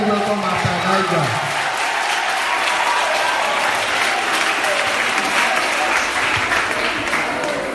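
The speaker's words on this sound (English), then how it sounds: "With a clapping ovation, let's welcome Master Elijah." A school audience gives a clapping ovation to welcome a speaker: sustained, dense applause from a large crowd, loud and even from start to finish, with a voice briefly audible at the very beginning.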